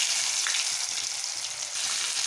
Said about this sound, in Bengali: এখন আমি এই তেলের মধ্যে আমি পেঁয়াজটাকে আগে একটু ভেজে নেব